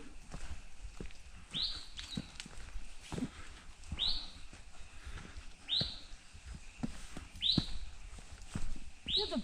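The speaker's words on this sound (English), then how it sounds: "Look at the birds." Birds chirping outdoors, a repeated bright call recurring about every two seconds in a regular rhythm, moderately near, with faint rustling and footsteps in the background.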